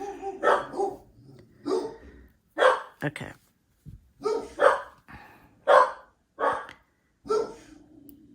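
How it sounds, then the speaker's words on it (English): A small dog barks repeatedly alongside a bigger dog, in a steady series of sharp barks, close by, with a brief spoken word among them. "the little dog just starts barking because the big dog is barking"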